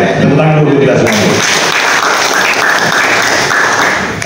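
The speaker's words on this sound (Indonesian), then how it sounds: "Tepuk tangan dulu kita semuanya." An audience at an anniversary celebration for the Persitara club applauds loudly; a voice over a loudspeaker trails off at the start, then a dense burst of clapping carries on for several seconds.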